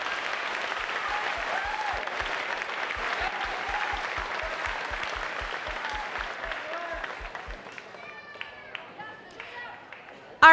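Sustained crowd clapping fills the hall at Oregon Middle School's 8th grade moving-on ceremony, with a steady run of low thumps underneath, before the applause thins out and a voice begins over the fading room.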